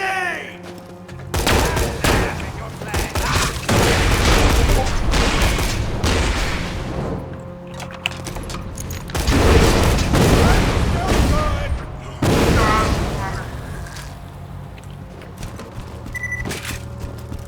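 Heavy booms of a grenade explosion and bursts of rapid gunfire from Borderlands 2 combat, loud and dense across several seconds, with voices talking over the fighting.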